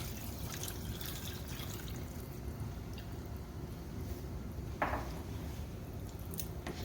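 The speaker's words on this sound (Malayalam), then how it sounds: "ഇനി എടുത്തു വെച്ചിരിക്കുന്ന രണ്ടാം പാല് ചേർത്ത് കൊടുക്കാം" Second coconut milk is poured into a pot of chicken mappas curry with potatoes, a faint, soft liquid trickle under low background hiss, with one brief splash partway through and no talking.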